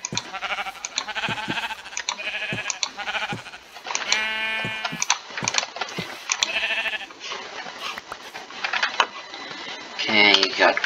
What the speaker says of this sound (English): Now I need to go kill sheep for wool.